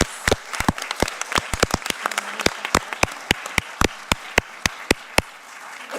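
A small group claps at a city council business meeting, giving sparse, distinct claps at an uneven pace that run steadily for several seconds in a quiet room.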